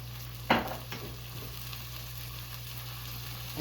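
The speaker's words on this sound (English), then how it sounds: "we're going to saute it for maybe 5 minutes" Fennel fronds are sauteed in olive oil in a pan, with one sharp stirring scrape near the start and then a soft, steady low sizzle that continues quietly.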